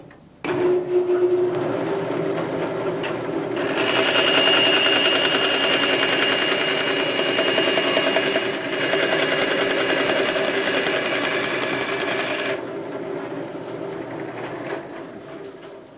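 A bandsaw cuts stock in a machine shop, its steady broadband whine and mechanical drone running continuously for about twelve seconds, close and loud, before the cut ends and the machine keeps humming.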